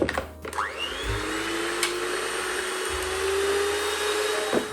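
A steady electric mixer whir runs throughout as it whips cold cream of 30% fat to stiff peaks, a continuous motorized hum with a slight rising pitch, close and fairly loud, no voices.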